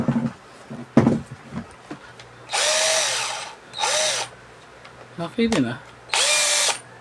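An Exceed budget cordless drill runs in three whirring bursts of a second or so each, close by, with brief speech and handling clicks in between.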